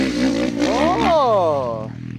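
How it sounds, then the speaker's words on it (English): Triumph or Yamaha motorcycle engine on a track, revving hard into the rev limiter with a rising then falling whine, loud and close, with people talking over it. "I hear the rev limiter."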